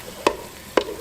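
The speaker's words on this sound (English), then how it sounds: "So I just want to stir it around probably 30 seconds to a minute" Flour being stirred into beef stew in a Ninja Speedi: two brief scraping knocks of a spoon against the pot, about half a second apart, over a quiet background.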